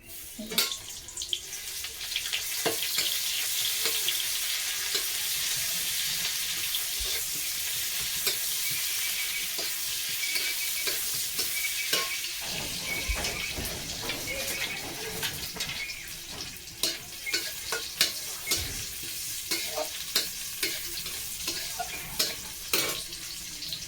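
Cumin seeds and chopped onion fry in hot oil with a steady, dense sizzle, broken by scattered stirring clicks and scrapes. Running water from a tap can be heard at times in the background.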